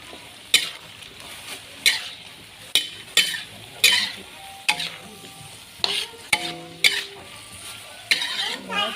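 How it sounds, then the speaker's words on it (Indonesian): Betawi-style capcay of leafy vegetables and meatballs stirred in a hot pan: a steady sizzle with a dozen sharp spatula scrapes and knocks against the metal, close and loud, with no talking. "kita masukin semua daunannya dan bakso akhir, kita aduk rata"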